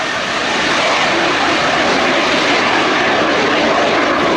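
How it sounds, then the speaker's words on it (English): A Morane-Saulnier MS.760 Paris and a Fouga CM175 Zephyr, historic French naval jets, fly past at an air day with a loud, steady, broadband engine roar that builds slightly and holds throughout. "a very distinctive noise at that. From leading them off, the Morane-Saulnier MS.760 Paris, accompanied by the Fouga CM175 Zephyr."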